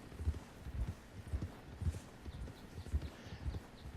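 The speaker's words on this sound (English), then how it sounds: "The horse is starting to trust me more, and the horse is starting to perform" Hoofbeats of a horse in Red Dead Redemption 2, a steady clip-clop of repeated strides at moderate loudness, picking up pace, with no talk over it.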